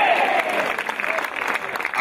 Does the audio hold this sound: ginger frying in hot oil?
no